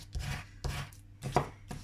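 Vinyl being burnished onto transfer tape for a beginner Cricut Maker project, heard as four short scraping rubs, close and fairly quiet, with brief pauses between them and no talk.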